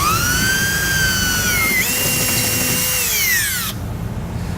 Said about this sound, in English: We're going to drill right into the back of the bumper here.